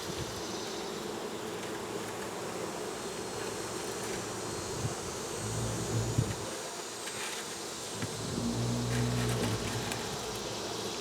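Bees buzzing around backyard beehives during fall honey flow, a continuous soft droning hum at moderate distance with occasional louder passes near the microphone and light outdoor ambience.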